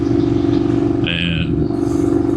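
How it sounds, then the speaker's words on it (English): Close, continuous 2019 Indian FTR 1200S motorcycle exhaust drone, loud and steady throughout, with a brief higher-pitched tone cutting in partway. "I'm sure that you guys can hear this exhaust."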